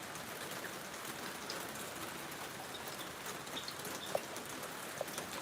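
Steady rain falls outdoors in a province in the Philippines, a dense even hiss with occasional individual drips standing out, continuous and fairly close throughout.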